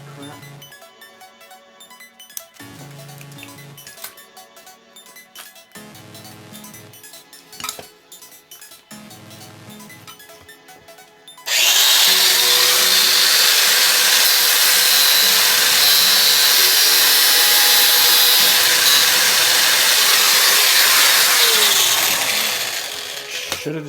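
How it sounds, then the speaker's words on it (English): An angle grinder cuts into an old radiator fitting during an LS engine swap on a square-body truck, roaring loud and continuous for about half the clip after quieter clinks and tool handling. "Out comes the grinder."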